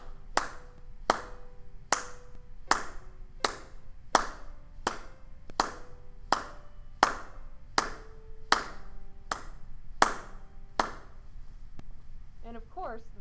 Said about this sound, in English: I'm just going to tap out the beat this time. You'll hear a tapping sound.